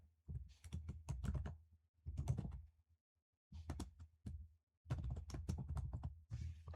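Keys clatter on a computer keyboard while C++ code is entered, in quick bursts of soft, close taps separated by brief pauses.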